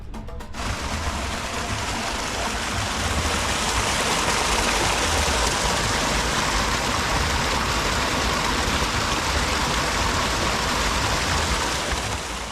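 Rain falls steadily on the Kilimanjaro mountainside near Mori Hut, a dense, unbroken hiss that holds at an even loudness from start to finish.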